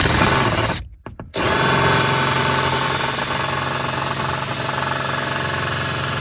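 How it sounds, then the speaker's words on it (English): A power drill runs loud and close, boring a hole for speaker wiring in a 2019 Toyota RAV4, its motor whining steadily, cutting out briefly once before boring on without a break. "I'm just gonna cut this, drill this through here."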